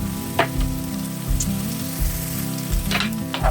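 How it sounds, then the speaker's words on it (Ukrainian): Vegetables with sweet pepper frying fast over normal heat in a pan, a steady close sizzle with a few sharper crackles and spits, no talking. "Овочі смажимо дуже швидко на нормальному огні."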